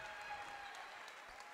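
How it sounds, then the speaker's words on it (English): Faint, distant applause from a crowd at a women's college basketball game, a steady patter of clapping with no voices standing out. "And Will Albright leaves with a nice round of applause."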